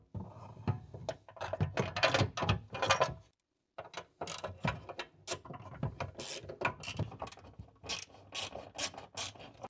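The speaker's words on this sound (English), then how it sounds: "and then we can start tightening them down." A ratchet wrench tightening bolts on a Grenadier cargo basket gives rapid clicking bursts, close and crisp, broken by one brief pause before the ratcheting resumes steadily.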